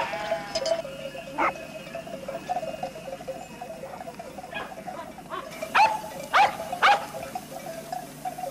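Sheep bleat across an open pasture while a puli herding dog works the flock, with sharp barks sounding several times near the end over a faint steady background.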